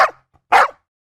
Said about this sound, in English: if anyone provokes a stray dog, it starts barking